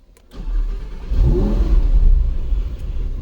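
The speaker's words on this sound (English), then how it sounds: "Let's turn on the car." A Lamborghini Huracán Tecnica V10 engine cranks and catches, then settles into a loud, steady rumbling idle close by.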